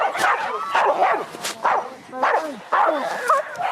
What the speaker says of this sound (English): Stephanie, who's already trying to deal with two biting dogs.